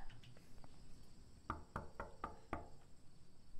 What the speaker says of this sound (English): Slight little knock.